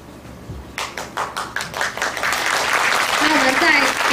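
A school audience welcomes its student wind band. A few separate hand claps come first, then they swell into steady, dense applause filling the hall, with a voice faintly audible partway through.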